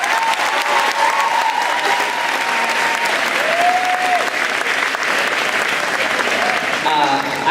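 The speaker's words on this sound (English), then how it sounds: "Round of applause for yourself" A graduation audience applauds in a broad, sustained wave of clapping, loud and even throughout, with a few faint voices and tones audible near the end.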